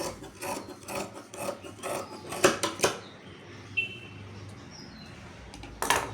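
Scissors snipping through blouse sleeve fabric, a series of close, crisp rasping cuts in an uneven rhythm, then a pause with faint rubbing before one more snip at the end.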